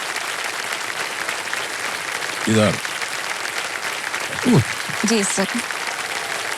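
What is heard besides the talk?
studio audience applause on KBC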